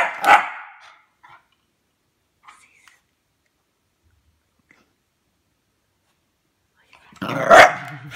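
A dog gives a sharp bark, then near silence with faint small sounds, before another loud bark-like burst at the end.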